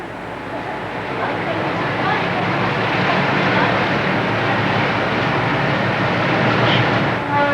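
A tourist train runs along the line near Machu Picchu's Puente Ruinas station, producing a steady, loud rolling rumble and rattle that continues unbroken throughout.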